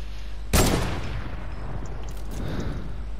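A single loud gunshot in CS:GO cracks out sharply, then a dull rumble and faint scattered noises continue in the background.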